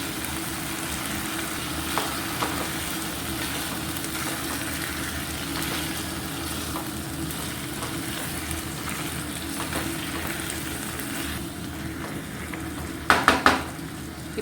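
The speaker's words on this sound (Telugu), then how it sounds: "ఇప్పుడు ఇందులోకి 2 పెద్ద టమాటోలు మిక్సీ చేసుకునేది వేసుకుంటున్నాను" Ground tomato puree for a drumstick masala curry hitting a hot pan, giving a steady, moderately loud sizzle and fry throughout, with a few brief clinks of a utensil against the pan near the end; no talking.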